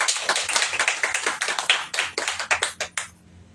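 Audience at a church sermon clapping their hands in a quick, rhythmic burst of claps that goes on for about three seconds before stopping.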